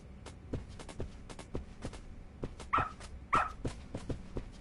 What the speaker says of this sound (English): Good dog. Very good dog.